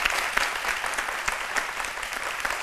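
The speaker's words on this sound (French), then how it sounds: "On applaudit très fort" A studio audience on a French-language midday TV show claps steadily and loudly throughout, a dense continuous applause with no talk.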